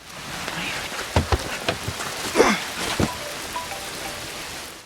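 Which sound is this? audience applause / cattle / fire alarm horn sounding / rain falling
rain falling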